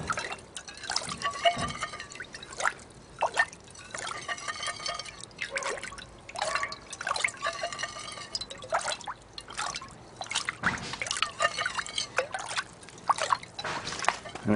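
Water pours and trickles over gold panning material as it is washed down, making splashing, dribbling bursts in uneven spurts, fairly close and moderately quiet, with no talk.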